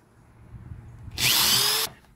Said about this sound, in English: All right, so I'm going to drill this other one out.